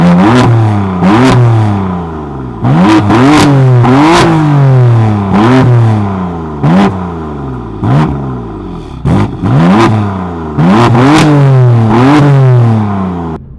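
A BMW M4 with its stock exhaust in Sport Plus mode revs repeatedly, each sharp blip climbing and falling in a series of close, loud rises with brief pauses between them.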